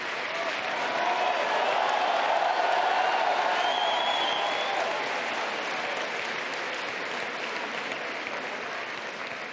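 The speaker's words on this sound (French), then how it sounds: "Merci à vous de les avoir tous et toutes applaudis à l'instant." A large crowd at a politician's 2017 presidential election speech applauds in a continuous, loud roar of clapping mixed with cheers, sustained evenly throughout.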